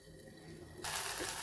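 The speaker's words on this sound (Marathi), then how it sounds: "थोडीशी चिंच भिजवलेली आहे आता ही पाण्यामध्ये छान कोळून घेते" Soaked tamarind being squeezed and mashed by hand in water for sambar, a close wet squishing and sloshing that turns suddenly louder and splashier halfway through.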